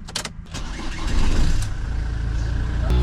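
A camper van's engine cranks and catches, then settles into a steady, loud running rumble close by, with a few sharp clicks and knocks at the start and no voices.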